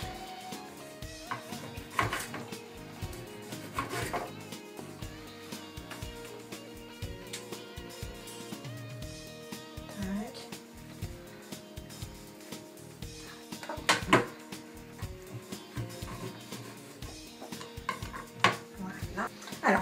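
Kitchen clatter of knife and plate as a tomato is sliced and slices laid on garlic bread toasts with ham and mozzarella, a steady run of close clinks and taps over faint music.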